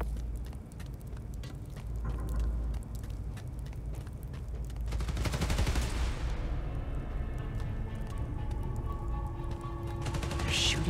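Rapid gunfire bursts and mechanical clatter in Spider-Man: Miles Morales, fairly loud and continuous, swelling mid-way with a metallic rush before settling into ringing, whirring machinery tones.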